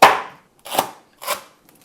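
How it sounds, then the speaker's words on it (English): A knife chops lemongrass pieces on a cutting board in three sharp, separate strikes about half a second apart, close and crisp, with silence between them. "Now we're gonna chop these pieces up and put them in our soup."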